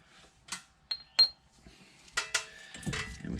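Metal brake caliper pins from a 2005-2009 Buick Lacrosse set down with several sharp, close metallic clinks and taps, spaced irregularly, followed by brief rattling and handling noise.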